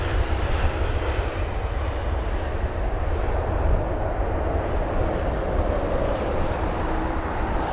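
A jet airliner touching down at London Heathrow makes a continuous broadband engine roar and rush that stays steady and strong throughout, with no talking.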